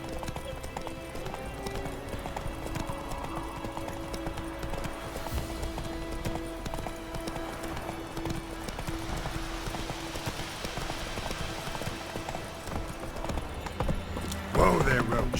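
A horse's hooves clip-clop at a steady walking rhythm on a road in The Witcher 3: Wild Hunt, a continuous moderate beat under voices talking, with a brief louder burst near the end.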